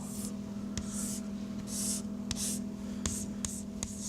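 Chalk or marker strokes on a lecture board while a chemical structure is drawn, a steady run of short scratchy writing bursts with a low room hum underneath and no talking.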